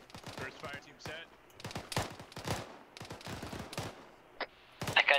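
Machine gun bursts in an Arma 3 combat mission: a series of short, sharp rattling volleys, some close and some more distant, spaced irregularly, with a brief crackle near the end and little else in between.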